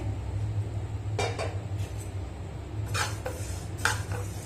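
Roasted urad dal tapped out of a pan into another vessel, a few quick metallic knocks and clatters in two short clusters over a low background hum.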